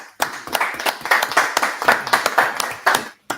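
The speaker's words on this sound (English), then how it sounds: "Clap it up." Hands clapping in a church Sabbath service, a quick, uneven run of sharp claps from a few people nearby, rhythmic and fairly loud, with a brief pause near the end.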